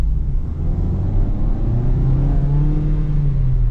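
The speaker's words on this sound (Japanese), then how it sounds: "勾配をもろともせず、むしろエンジンの元気の良さを味わえるので、これがまたいいんですよ。" A Mazda Demio's engine pulls hard up a steep mountain slope, a steady close droning rumble that climbs gradually in pitch as the car accelerates.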